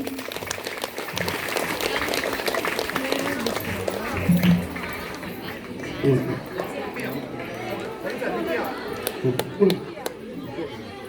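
Crowd clapping at a government high school annual day prize ceremony, a sustained mid-level patter mixed with chatter and a voice speaking over it, swelling in a few brief bursts.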